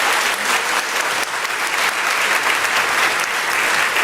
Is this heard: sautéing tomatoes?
no